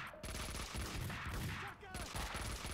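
Rapid bursts of gunfire in the Max Payne 2 video game, sharp repeated shots in quick succession with a short gap between two volleys, loud and close.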